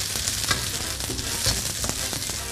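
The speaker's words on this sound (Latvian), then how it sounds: "tagad tie dārzeņi izdos sulu. Tur mums olīveļi ir pannā." Vegetables fry in olive oil in a pan, a loud, continuous close-up sizzle with crackling pops and occasional stirring scrapes, no talk over it.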